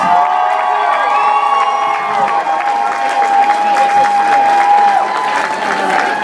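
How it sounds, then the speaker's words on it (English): A crowd at a costume contest cheers and applauds continuously, with whoops and shouts over steady clapping for several seconds. "I should hear some more cheering."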